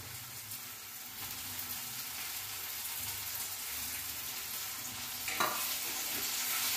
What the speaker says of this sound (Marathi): आता आपण टमाटर टाकू